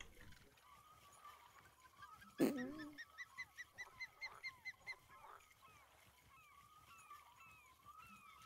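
A bird in the Everglades setting of the fishing game Fishing Planet calls in a quick run of about ten rhythmic honking notes, loud and close, over a background of softer chirps and distant birdsong.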